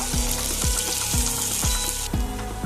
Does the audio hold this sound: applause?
no